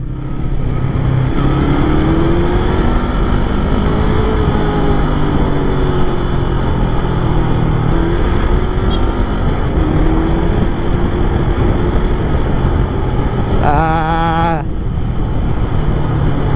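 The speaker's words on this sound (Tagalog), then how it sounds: "ang sarap i-long ride ng motor na to" A steady, loud engine drone continues throughout with wind rush from riding a 2022 Bristol Veloce 500 motorcycle, and a brief warbling tone near the end.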